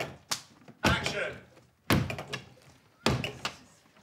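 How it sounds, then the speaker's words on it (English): A door that won't close is shut hard three times in a row. Each attempt gives a heavy, close thud with a rattling, rumbling tail before the next push. "Door won't shut."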